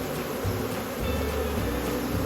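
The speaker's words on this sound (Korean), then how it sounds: "자, 이렇게 벌이 꽉 차 있습니다." A dense, steady drone of honey bees crowding a full hive, a continuous close buzz with no pauses and no voices.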